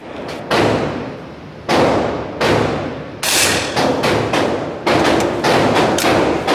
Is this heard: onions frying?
no